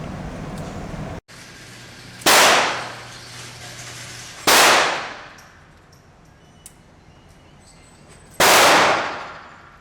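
A Ruger Vaquero single-action revolver fires three sharp, loud gunshots at a shooting range, each ringing out and decaying, spaced a couple of seconds apart over quiet background.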